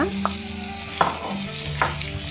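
Pieces of dried fish (karuvadu) roast in a dry pan, giving a soft steady sizzle broken by a few sharp scraping stirs, close and quiet with no voices.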